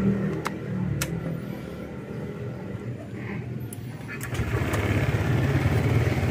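A Honda Click scooter's engine is cranked and catches after an air screw adjustment, a close mechanical chatter that settles into a louder steady idle, with someone talking over it.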